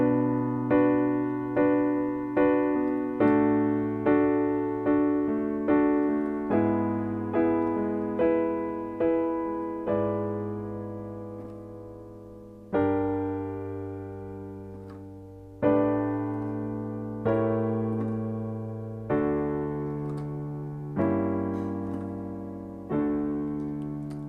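Solo piano plays the outro of a song: a slow, sustained chordal accompaniment with a steady series of struck chords, each ringing and fading before the next, moving between harmonies with a few longer held chords toward the end.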